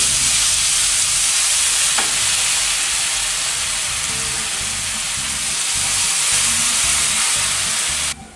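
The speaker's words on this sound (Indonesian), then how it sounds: "Pertama kita tumis bumbu halusnya." Ground spice paste sizzles and fries steadily in a hot pan, a loud, continuous hiss with faint stirring scrapes underneath that cuts off abruptly at the end.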